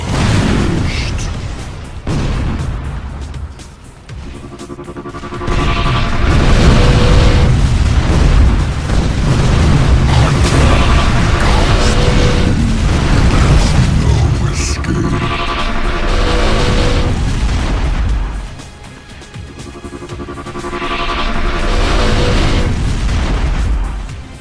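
A deep, booming explosion fills the scene as a power core is destroyed in the video game Unreal Tournament 3. The blast is loud, with long rumbling surges that swell and fade over the stretch. An announcer voice speaks briefly over it.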